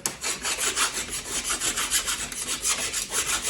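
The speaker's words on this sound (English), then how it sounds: "So grab your file again. Okay, where you've drilled it." A hand file rasps back and forth over freshly drilled holes in a metal top frame for a DIY motion simulator platform, giving steady, close rhythmic strokes with no talking.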